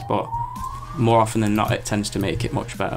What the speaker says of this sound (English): Not sure if you can hear them sirens in the background